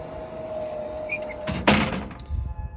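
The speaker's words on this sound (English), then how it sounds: "You'll see the door is going to open. The van's going to kind of squat down, and you'll see that the ramp is going to come out." The power sliding door of a 2005 Toyota Sienna with an IMS wheelchair ramp opens: a whirring motor hum, then a solid thunk and a rattling clatter as the mechanism moves, close and fairly loud.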